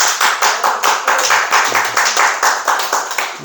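A church congregation claps together in steady, rhythmic applause, many hands striking in a fast, even pulse that stays close and moderately loud throughout, with no talking over it.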